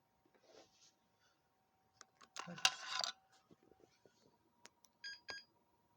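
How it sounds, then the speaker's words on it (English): Short electronic BIOS beep codes from a Dell OptiPlex 755 computer sound near the end, after scattered clicks and handling noise, with a faint steady tone underneath. "I just had 2 beeps then"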